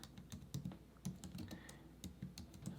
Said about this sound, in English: We're gonna go back here and just type that in.